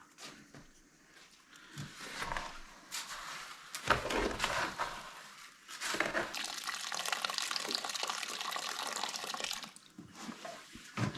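Water pours and splashes into a container in uneven bursts, fairly quiet and close, with brief pauses between streams.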